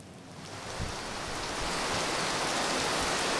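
Rain falls steadily at a cemetery in Sik, Kedah, a dense hiss of drops growing slightly louder and filling the scene, with no voices.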